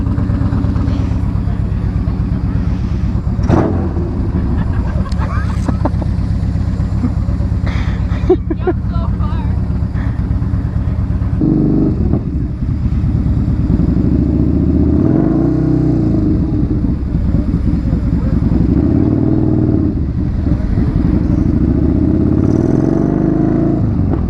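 A Yamaha Bolt motorcycle engine rumbles and revs at close range, with loud low throbbing and rising surges, while people talk over it.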